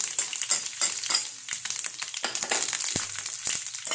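Mustard seeds, dried chili and curry leaves crackle and spit in hot oil for a tempering, with dense continuous sizzling, sharp popping bursts and a brief stir or scrape near the pan, close and fairly loud throughout.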